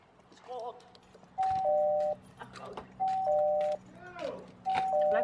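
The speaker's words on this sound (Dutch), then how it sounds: "Eén keer bellen is genoeg." A two-tone doorbell chime rings three times at even intervals, with voices talking quietly between the rings.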